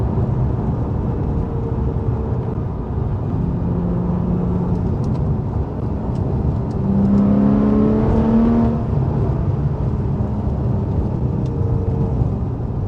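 A Porsche 911 991.1 Carrera with an Akrapovic titanium slip-on exhaust idles with a steady low rumble, then revs up sharply around the middle with a rising exhaust growl before settling back to idle.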